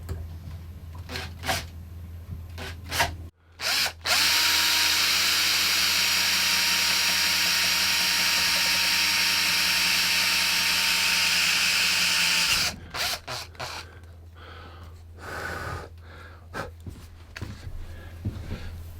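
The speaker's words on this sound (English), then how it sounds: "take a 6mm drill bit and my cordless drill and drill in the hole" A cordless drill with a 6mm bit whirs loudly and steadily for several seconds, drilling into a wooden guitar neck, bracketed by clicks, handling taps and brief shuffling sounds before and after.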